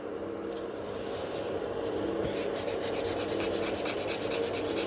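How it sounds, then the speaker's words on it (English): A gel nail is filed by hand from underneath, a close, soft, steady scratchy rubbing that turns into quick rhythmic strokes partway through, with no talking. "So file it from underneath"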